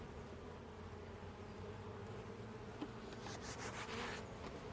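Honeybees buzz steadily at a hive while colonies are being prepared for winter, a continuous close drone that swells slightly toward the end, with no talking.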